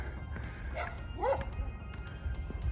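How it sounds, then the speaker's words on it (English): Dogs barking and yipping in a residential neighbourhood pass during an outdoor walk, with a couple of short barks and a whimpering yip at a distance over steady outdoor background noise. "you can't walk through here without someone's dogs barking at you"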